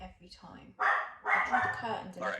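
A dog barks a few times nearby, loud and sharp, while a person talks over it.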